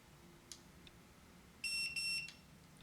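An electronic keypad deadbolt in mute-mode programming gives two close, bright electronic beeps after its set button is held, clear and alone against a quiet room with a couple of faint ticks before.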